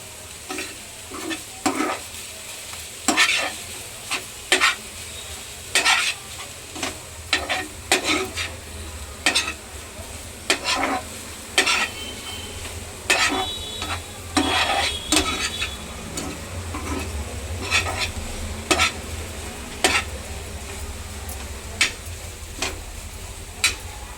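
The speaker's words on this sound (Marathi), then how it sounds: "कोथिंबीर टाकून चांगली पुन्हा एकदा परतून घ्यायची आपल्याला" Dry small prawns (suka jawla) are sautéed with coriander in a pan. A spoon scrapes and stirs in repeated, uneven strokes over a low, steady sizzle, close and fairly loud, with no talking.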